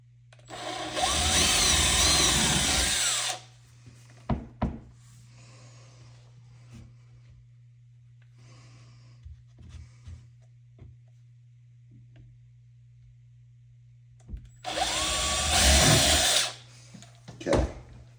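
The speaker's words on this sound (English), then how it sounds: "Going to pre-drill." A power drill pre-drills screw holes in wooden drawer faces, two loud bursts of whirring several seconds apart with quiet handling clicks and faint taps between them and a steady low hum beneath.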